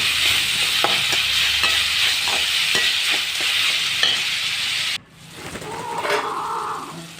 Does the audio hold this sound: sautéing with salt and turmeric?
yes